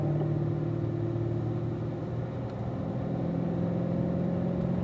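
Corvette cars rolling through a warm-up lap on a race track, a steady engine drone with rumbling low tones that holds evenly throughout, no voices.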